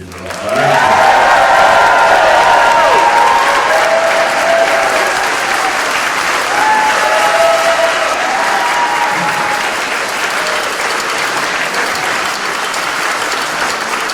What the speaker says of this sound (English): Now we need a really, really big round of applause for every one of you.